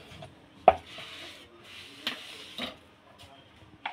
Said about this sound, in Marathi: बारीक बारीक असे चिरून घेणार आहे